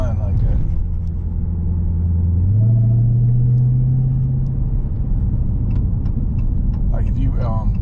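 Supercharged Dodge Challenger Hellcat Redeye engine under load, with the supercharger whining on acceleration: a steady low engine drone that rises in pitch partway through, with voices nearby.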